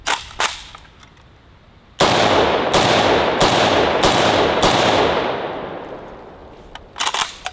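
Kalashnikov AK rifles fire on an outdoor range in a comparison shoot: a few distant pops, then five loud, close shots in an even rhythm, each leaving a long echoing tail, followed by another quick pair.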